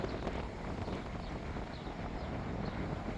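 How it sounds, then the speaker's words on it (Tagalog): Strong wind gusting outdoors, a steady broadband roar that fills the whole moment with no clear breaks. "Ayun o, lakas ng hangin."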